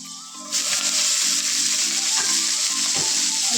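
Chopped saag greens dropped into a hot pan, a sudden loud sizzle that starts up after a quiet moment and keeps hissing steadily close by, with faint stirring scrapes beneath it.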